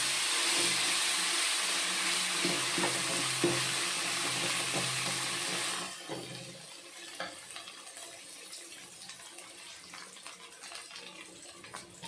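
Oil sizzles loudly in a pan while coriander chutney is being made, a dense hiss that cuts off abruptly partway through and leaves quieter clinks, scrapes and light stirring noises.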